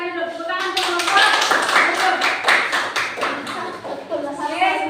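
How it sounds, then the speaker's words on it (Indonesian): A classroom full of students clapping together, a dense, steady burst of applause lasting several seconds, with a few young voices mixed in. "Tepuk tangan untuk kelompok."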